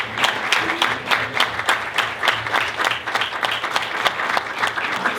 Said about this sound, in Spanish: Por favor, un aplauso para don Marcelo Venegas.